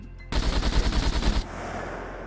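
Rapid automatic gunfire in the survival video game SCUM, a loud, close burst of about a second of fast repeated shots cut off abruptly, followed by a quieter ambient tail.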